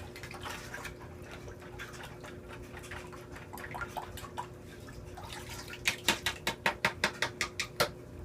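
Fluval 406 canister filter sponges rinsed in water, giving a run of wet squelches and drips that grows into sharp, rhythmic splashy squeezes near the end, close and unaccompanied by talk.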